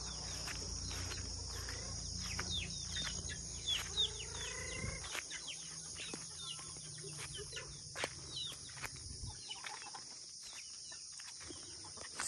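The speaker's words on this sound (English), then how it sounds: "Let's go watch Nana feeding the chickens." Chickens cluck and chatter softly while being fed on a farm, against a steady drone of crickets, with a low rumble in the background fading partway through.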